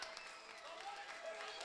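A minor-league baseball crowd claps and cheers as the game ends, a steady wash of hands and voices at a distance, with a commentator talking over it.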